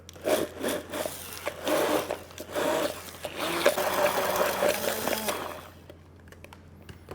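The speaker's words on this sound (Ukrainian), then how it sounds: "Та прибиваю до однорідної консистенції за допомогою блендера." A kitchen blender purées yogurt into a smooth mixture for an agar-agar gel: short stuttering bursts at first, then a steady whirring run of about two seconds that cuts off into quiet.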